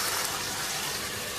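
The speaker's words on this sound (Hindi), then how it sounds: "1/4 प्याली पानी की डाल देंगे।" Water poured into a pan of cooking chicken, a brief, steady, close gushing splash with no talk.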